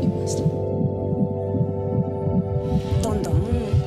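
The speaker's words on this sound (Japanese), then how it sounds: "こんななんか強い心臓の音" A baby's strong heartbeat during pregnancy comes through as a fast, rhythmic throbbing pulse over a steady low hum, close and continuous, with a brief swishing change near the end.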